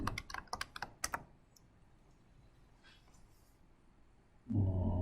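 Fingers tap quickly on a computer keyboard, a burst of sharp, close key clicks lasting about a second. Quiet room tone follows, then a loud low hum comes in at the end.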